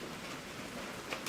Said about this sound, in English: I don't know if y'all can hear that rain in the background.